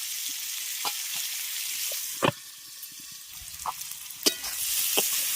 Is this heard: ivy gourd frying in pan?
yes